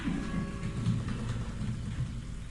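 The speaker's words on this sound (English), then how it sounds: "can you hear the raindrops falling from the sky?" Steady rain falls, a dense, even hiss of raindrops with a low rumble underneath, continuous and without voices.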